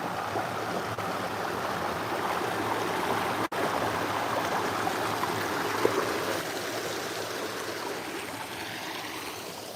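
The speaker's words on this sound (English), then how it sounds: "So there's a nice waterfall." A constant rushing of falling water from a waterfall at Top Pond, Dimmingsdale, fills the scene, steady and fairly close, with no voices over it.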